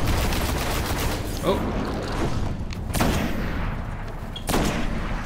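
Gunfire and explosions from the Xbox One shooter Destiny roll on continuously in a dense, booming barrage, with a player briefly exclaiming over it.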